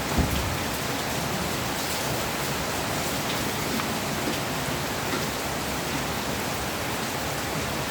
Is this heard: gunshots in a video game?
no